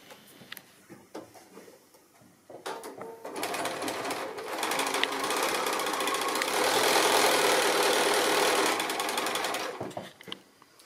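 A sewing machine stitches the seams of a small square drawstring bag, a few short starts followed by a loud, steady whirring run of several seconds before it stops.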